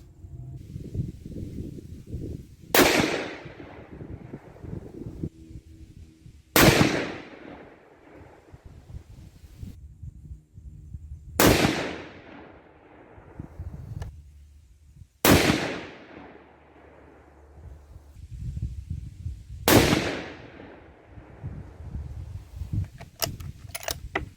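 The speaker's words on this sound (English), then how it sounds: "We probably just go ahead and shoot these next 2 groups without letting her cool down too much." Five loud, sharp rifle shots from a 6.5 Creedmoor firing Lapua 123-grain OTM Scenar loads over H4350 powder, spaced roughly four to five seconds apart, each ending in a rolling outdoor echo over low background rumble.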